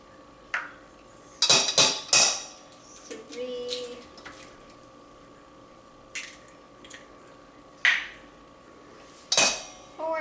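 Four eggs cracked one after another into a bowl for a lemon curd Swiss roll, heard as sharp, scattered knocks and clatters of shell on the bowl rim, with faint bird cooing in the background.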